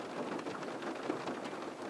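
Steady rain falls in a dense, even hiss, with close drops pattering on a surface and no voices.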